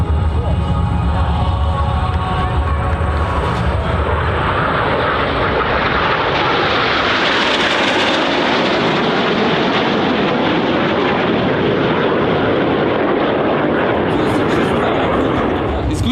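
Frecce Tricolori aerobatic jets crossing at the New York Airshow 2024 roar loudly and continuously, the engine noise swelling as they pass close overhead and then trailing off, with a commentator's voice over the PA.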